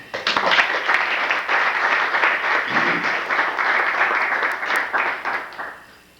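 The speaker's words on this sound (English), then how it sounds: "may we give a round of applause for everyone that has come out" Loud, lively applause from an audience at a keynote session, many people clapping together for several seconds before it tapers off and fades.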